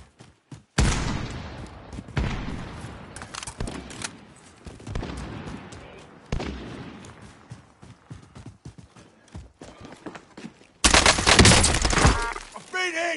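Gunfire bursts in the video game Warzone, repeated loud volleys and rapid shots scattered through the stretch, with players talking excitedly over the shooting.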